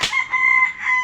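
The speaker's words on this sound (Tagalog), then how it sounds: "May mga manukan pa dyan, oh. May mga manok pa." A rooster on a chicken farm gives a loud, close crowing call with a short clucking start, a single drawn-out cry of about one second.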